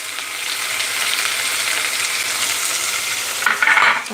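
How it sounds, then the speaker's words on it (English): Half an onion added to chilies frying in a pan for a spicy vegan oats brunch, giving a loud, steady sizzle throughout with a brief clatter of utensil movement near the end. "as those chilies get a little bit more kind of fried, I'm going to go in with half an onion."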